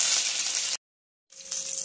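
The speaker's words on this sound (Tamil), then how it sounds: "கடுகு நல்லா பொரிஞ்சிட்டு இப்போ பூண்டு ரெண்டு மூணு பூண்டு லைட்டாக வேகட்டும்." Mustard seeds, garlic and curry leaves fry in hot oil, giving a bright close sizzle that cuts out briefly, then resumes with a faint tone underneath.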